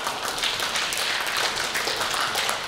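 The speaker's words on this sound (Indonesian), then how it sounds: "Kita berikan tepuk tangan yang meriah." An audience at a televised quick-count event with election survey institutions applauds in a dense, steady spray of many hands, moderately loud and sustained with no voices over it.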